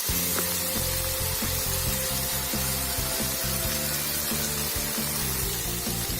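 Masala paste for a Bihari-style chicken lasooni cooking on a low flame, giving a steady broad sizzling hiss with a low bubbling rumble underneath, continuous and close throughout.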